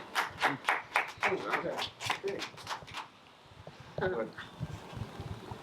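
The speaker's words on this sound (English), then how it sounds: "should give him a round of applause" A small audience at a Long Island Barnes and Noble author talk claps in a close, lively burst of applause for about three seconds, followed by people talking.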